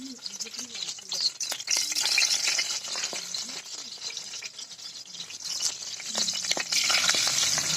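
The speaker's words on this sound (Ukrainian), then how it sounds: "Починаємо смажити нашу рибку." Fish coated in cornmeal sizzling and crackling in hot oil in a cauldron over an open fire, a steady close-up frying hiss with occasional stirring clatter and faint voices in the background.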